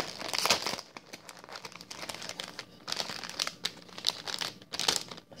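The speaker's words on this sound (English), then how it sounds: "Sorry for all the crinkling." Plastic packaging crinkles and rustles in close, irregular bursts while small paper tags in a little envelope are unwrapped, with louder crackling flurries spread across the whole stretch and no voice.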